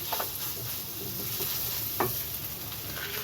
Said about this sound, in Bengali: দিয়ে এবার সবজিটা ভালো করে আমি নাড়াচাড়া করে নেব।